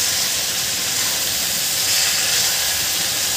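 Radish leaves sauté and get stirred in a hot pan, giving a loud, steady, close sizzling hiss throughout with no break.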